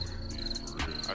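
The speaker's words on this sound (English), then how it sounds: "Crickets." Crickets chirp as a sound effect, a steady high-pitched trill with brief pulsing bursts, faint and heard alone.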